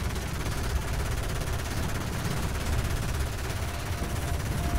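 Spaceship guns fire continuously in the space combat game EVE: Valkyrie, giving a dense, rapid, unbroken rattle over a heavy rumble.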